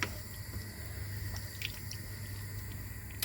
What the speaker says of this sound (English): And then we need to just stir that.